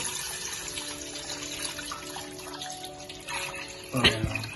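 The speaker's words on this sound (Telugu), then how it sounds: "ఇప్పుడు నేను వాటర్ వేసుకుంటున్నాను" Water is poured into a biryani pot as a soft, steady trickling stream, followed by a brief louder splash and clatter near the end.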